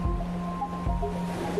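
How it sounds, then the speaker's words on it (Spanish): Sea waves wash against the shore at a small cove in Chile, a steady low rush mixed with a humming fishing boat motor, with a few surges of surf swelling through. "el vibrante sonido del mar que ella tanto adoraba se mezcla con el rugir del motor de una lancha de pesca"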